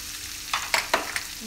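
Steady sizzling of cassava-leaf buntil filling frying in a pan, with several bursts of scraping and stirring against the surface.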